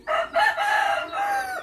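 A tích Phật hầu bò rooster crows once, loud and close, one drawn-out call held for well over a second with no other sound around it.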